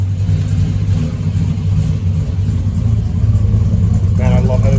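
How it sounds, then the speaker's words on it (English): Chevrolet Silverado truck with a Cadillac conversion idling steadily, a loud, close, low rumbling drone throughout, with a voice briefly near the end. "Yeah, it's idling steady though"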